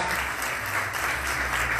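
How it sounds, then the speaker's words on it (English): Brief, steady round of audience applause at an empowerment event honoring standing contributors, dense clapping filling the room without pause. "please stand so we can give you another round of applause for all the work that you have done"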